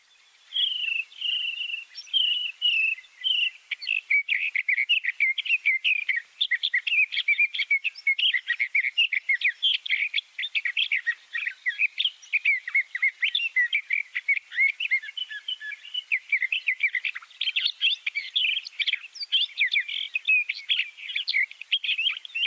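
A brown, long-tailed songbird that mimics other birds sings from sagebrush in the Owyhee region in spring, a long, continuous run of rapid, varied, high warbling phrases, clear and close, with no voices.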